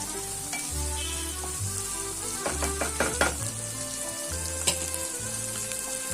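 Brinjal fries in oil in a pan with a steady close sizzle, broken by a few clinks and scrapes of stirring while a low hum runs underneath.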